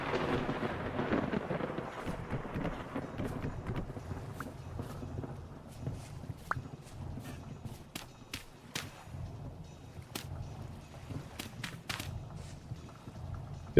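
Thunder in the game Vintage Story rolls as a low, rumbling storm that fades gradually, with steady rain-like noise and scattered sharp clicks and taps throughout, without speech.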